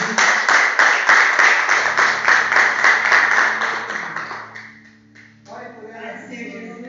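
Church congregation claps in a rhythmic, even beat, loud and close for several seconds, then tapers off into sustained keyboard tones and a voice speaking.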